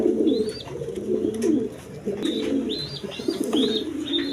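Pigeons at a breeding farm coo in steady, overlapping rounds close by, low throaty calls repeating throughout with a few higher chirps above them and no talking.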